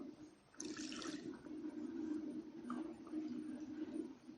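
Water pours steadily into a pot of Kerala parippu dal curry with ground coconut and cumin, a continuous close splashing gush that starts abruptly and runs for several seconds without talk.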